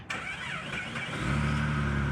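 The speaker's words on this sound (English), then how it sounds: "Did you hear a car just try to start?" A Jeep engine turns over and catches, rising into a steady running hum; heard at a moderate distance with no voices.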